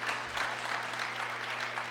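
A basketball crowd at a Sully Buttes versus Harding County round-of-16 game applauds steadily, a dense, even wash of clapping that fills the whole stretch, heard from within the gym.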